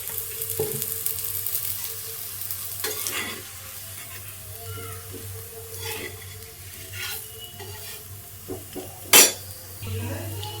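An oats paratha frying in a little oil in a pan, with a low steady sizzle under clinks and scrapes of a utensil against the pan and one sharp louder clatter near the end.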